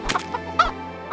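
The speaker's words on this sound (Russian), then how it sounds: "Ну, курочка." A chicken in the video game Kingdom Come: Deliverance gives a few short, close clucks in quick succession, sounding crisp over a faint steady background hum.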